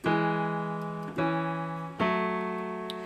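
A sustained piano chord from a song struck three times, each ringing out and slowly decaying before the next, with no talking.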